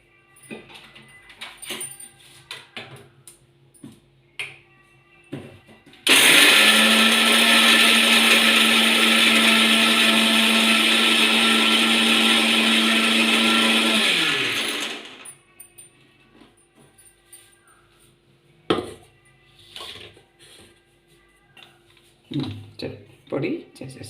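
Mixer grinder powdering peanuts, a loud steady whirring roar that runs for about nine seconds and then cuts off, with quieter kitchen sounds before and after.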